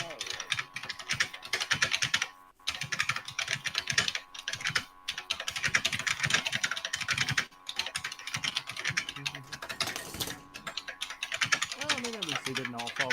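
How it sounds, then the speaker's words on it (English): Rapid, ferocious typing on a computer keyboard, a dense continuous clatter of keystrokes with a few brief pauses, close and fairly loud. "you really do have to mute yourself while typing that ferociously"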